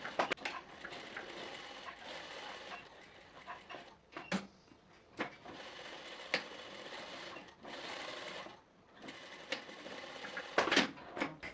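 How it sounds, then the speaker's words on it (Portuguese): A straight-stitch sewing machine hems the back pocket of palazzo trousers, running in quick, rattling bursts separated by short pauses, close up and fairly quiet. "agora nós vamos na máquina reta fazer essa costura aqui, fazer a costura aqui da bainha do bolso traseiro"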